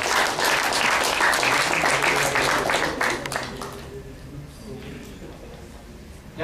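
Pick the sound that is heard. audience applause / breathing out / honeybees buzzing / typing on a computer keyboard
audience applause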